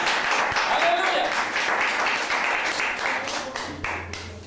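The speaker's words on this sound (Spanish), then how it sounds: "¿Cuánto da un fuerte aplauso al Señor en esta mañana?" A church congregation applauds, loud sustained clapping from many hands with voices mixed in throughout.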